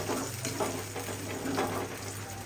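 Oil sizzles and crackles in a pan while khichuri is being cooked, a steady frying hiss with soft stirring pulses and no talk.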